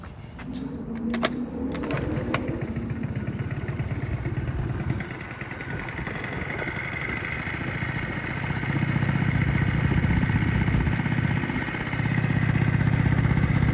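Starting with a few clicks and knocks, a Honda Dio AF-34 scooter engine runs steadily close by, its putter growing slightly louder toward the end.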